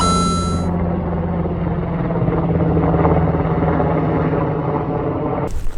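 A steady, loud rotor roar of a helicopter passing close overhead a quiet riverside campsite, continuous throughout with a thumping low rumble.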